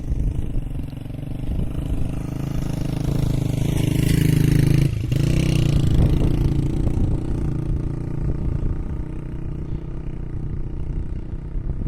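A motorcycle engine labours up a steep mountain track with a rough mid-pitched drone that swells toward the middle and then settles, joined by wind and crunching gravel.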